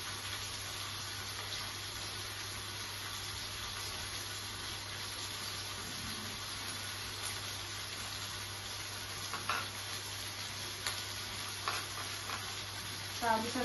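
Ginger garlic paste sizzles and spits steadily in a hot pan, a low continuous frying hiss with occasional louder crackles toward the end.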